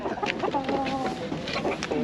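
Chickens at a busy poultry market in Taşköprü cluck and squawk close by in quick overlapping calls, with a murmur of crowd noise underneath.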